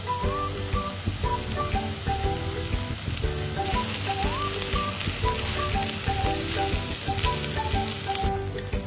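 Cooked rice frying over a high flame in a pan, with a loud, dense crackling sizzle that runs on without a break. Faint clinks and tonal kitchen sounds come through underneath, and nobody speaks.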